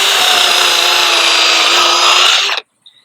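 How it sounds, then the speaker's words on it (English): Power drill boring a hole through a wooden baseboard, one steady close, loud whine for about two and a half seconds before stopping abruptly. "I'm going to drill a hole right past, about 6 inches past this ground post here in the middle of the baseboard."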